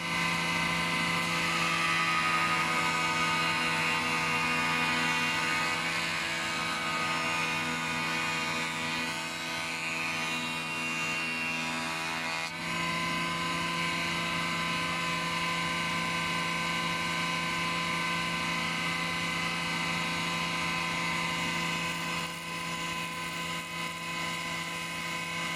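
A planer runs through beech boards with a loud, steady droning whine that holds unbroken for the whole stretch, with a slight shift in tone midway.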